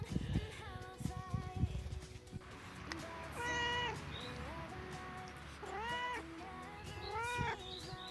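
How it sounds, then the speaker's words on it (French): A cat meows several times close by, drawn-out rising and falling calls spaced a few seconds apart, after some rustling and handling noises at the start. "comme vous avez pu l'entendre, hein, le chat a dit le mot de la fin"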